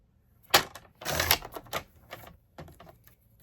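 A die-cutting machine for Stampin' Up! card making cuts through paper with a series of sharp, clattering mechanical bursts. Loud uneven clacks repeat over a few seconds with brief gaps between them, and no talk is heard.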